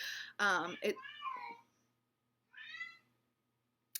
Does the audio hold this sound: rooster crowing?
no